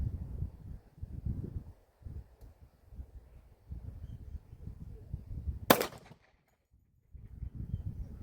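A single sharp crack of a Tisas 10mm pistol shot at an outdoor accuracy test, loud and brief, standing out against low background rumble and wind.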